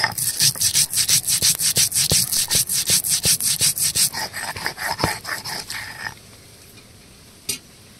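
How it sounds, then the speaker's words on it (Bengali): White mustard seeds being ground into a paste on a grinding stone: a quick, loud run of regular rasping back-and-forth strokes that slows and stops, leaving quiet, then one faint final scrape. "সরিষা ভেন্ডি রান্নার জন্য এখানে সাদা সরিষা বেটে নেব।"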